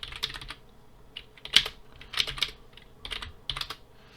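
Typing on a computer keyboard while entering a network service configuration: bursts of crisp key clicks in short clusters with brief pauses, close and fairly quiet, no one speaking.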